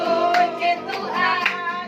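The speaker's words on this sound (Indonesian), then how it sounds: "Tepuk tangan wajah berseri." Hands clap in a steady rhythm during an Indonesian Christian worship song. Sharp claps come about every half second, partly buried under a group singing loudly up close.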